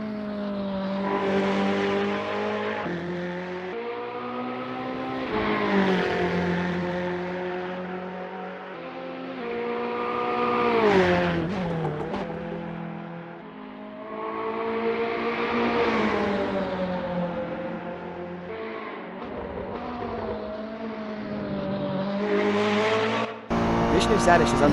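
A Ferrari 488 GT3 race car on an out lap at Interlagos in Assetto Corsa, its engine note rising and falling through gear shifts over a steady drone, with brief tire noise and a voice talking over it.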